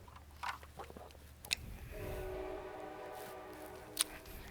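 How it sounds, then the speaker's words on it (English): A passing train sounds a sustained, tonal horn-like drone over a low rumble, moderately distant and steady for several seconds after a few scattered knocks. "God darn trains."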